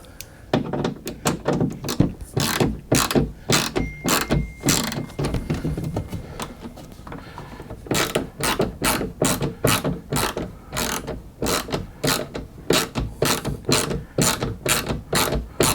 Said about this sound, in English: I should now, very carefully, be able to screw this locking screw back up